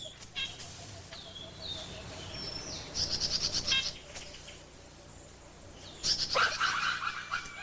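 A drongo, a crow-like native bird of Madagascar's forest, gives sharp chattering calls while mobbing a hawk, two loud bursts of harsh notes among softer chirps from other birds.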